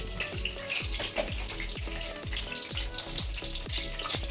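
Chopped onions fry in hot oil for Bengali mutton kosha, making a steady loud sizzle close by. A faint rhythmic stirring pulse runs under it, and no one speaks.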